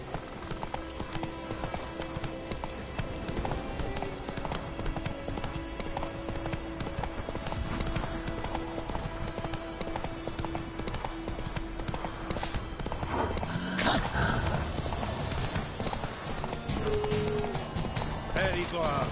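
Roach, the horse in The Witcher video game, trots along with steady, rhythmic hoof clip-clops over ambient game sound, with an occasional snort and a brief voice.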